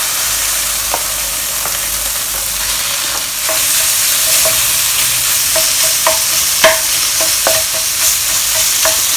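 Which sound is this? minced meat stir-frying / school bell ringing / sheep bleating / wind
minced meat stir-frying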